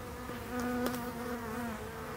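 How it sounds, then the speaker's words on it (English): Honey bees buzzing inside a bucket during a bee extraction, a steady droning hum that holds throughout and swells slightly midway, with no voices. "And there's still bees in there."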